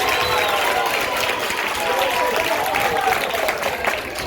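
An audience at a workers' gathering breaks into steady applause, a dense patter of clapping that lasts throughout with voices mixed in.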